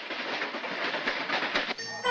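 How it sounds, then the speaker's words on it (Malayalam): Madras Mail passenger train rolling into a station platform after its run from Trivandrum Central, a steady loud rumble of wagons and wheels that holds throughout, with tonal horn-like notes and a change in the sound near the end. "Train number 20 Madras Mail coming from Trivandrum Central is now arriving on platform number 6."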